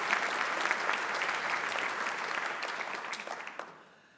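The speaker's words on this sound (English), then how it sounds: "So please give a round of applause to this very diverse set of nominations." A hall audience at Maastricht University's 49th Dies Natalis ceremony applauds a set of prize nominations: dense, steady clapping from many hands, fairly close, holding for several seconds before tapering off at the end.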